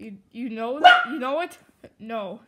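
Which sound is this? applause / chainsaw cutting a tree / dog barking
dog barking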